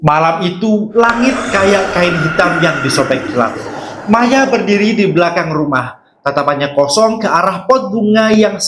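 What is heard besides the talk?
None of the usual background noises is heard.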